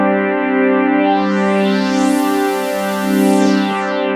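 Roland FA-06 synth chord held with increased filter resonance, a loud continuous tone with a sweeping, whistling resonant peak gliding up and back down over about four seconds.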